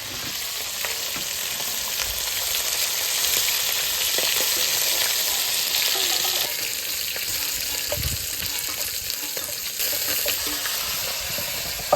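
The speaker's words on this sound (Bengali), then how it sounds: "মরলা মাছটা ভেজে নেব" Small mola fish frying in hot oil, giving a loud, steady crackling sizzle that runs for the full twelve seconds, with a few brief clinks from stirring.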